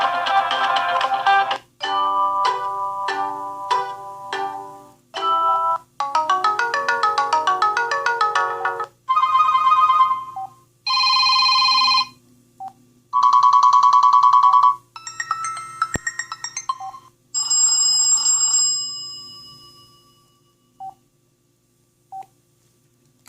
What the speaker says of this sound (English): We got our ringtones.